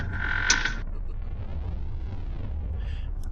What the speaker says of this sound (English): I rushed over to James's room and creaked the door open